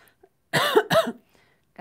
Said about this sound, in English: I don't like that this cough just showed up as soon as I started talking today